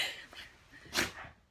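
A single short, breathy sneeze from a dog, fairly close and soft, with faint snuffling before it.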